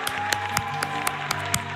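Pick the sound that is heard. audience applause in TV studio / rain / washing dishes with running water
audience applause in TV studio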